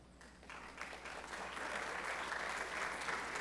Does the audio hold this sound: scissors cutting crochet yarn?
no